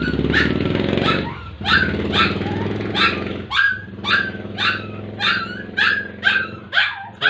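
A puppy barks repeatedly in quick, high yips, close and loud, over a steady background of music and low voices at a New Year gathering.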